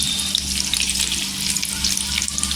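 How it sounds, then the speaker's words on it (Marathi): Potato pieces fry in a spoonful of oil in a kadhai for a spicy aloo dish, a dense, close, continuous crackling sizzle with no one talking. "एक चमचा तेल टाकायचं छान अशी बटाटी फ्राय करून घ्यायची"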